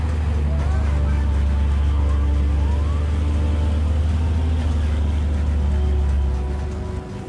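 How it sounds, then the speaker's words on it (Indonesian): Dense heavy-vehicle traffic crawls along the Gentong road, with engines droning steadily and horns or sirens rising and falling over a continuous low rumble that fades near the end. "kondisi di jalur Gentong sendiri padat karena kendaraan besar ya"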